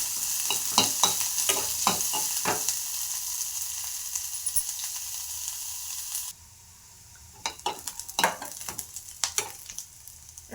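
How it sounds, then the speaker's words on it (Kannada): Curry leaves and onion frying in a little oil in a pan for tomato sambar, with a spoon clattering and scraping in bursts, a quiet pause midway, then more stirring, close and steady. "ಕರಿಬೇವು, ಈರುಳ್ಳಿ ಹಾಕಿ ಸ್ವಲ್ಪ ಎಣ್ಣೆಯಲ್ಲಿ ಫ್ರೈ ಮಾಡಬೇಕು."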